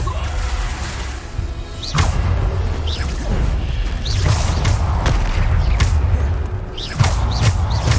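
Bombarda blasting spell explosions in the Hogwarts Legacy video game: a dense, continuous run of booming impacts, crashes and whooshing spell sounds, with several sharp hits and rumbling low end throughout.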